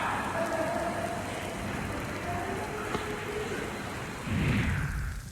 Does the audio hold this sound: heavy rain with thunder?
yes